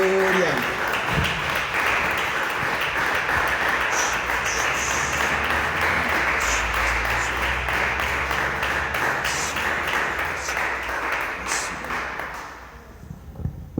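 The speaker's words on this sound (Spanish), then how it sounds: "Gracias por esos aplausos al Señor Jesucristo." Sustained applause and clapping from a church congregation during a Spanish-language worship service, filling the space steadily for about twelve seconds before fading into quiet.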